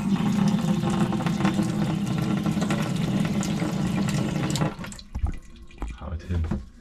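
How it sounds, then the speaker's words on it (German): Water running steadily from a tap inside a caravan fitted with a 12-volt LiFePO4 battery, a broad, loud rushing that stops abruptly near the end, leaving a few faint clunks and knocks. "Wenn das Wasser läuft."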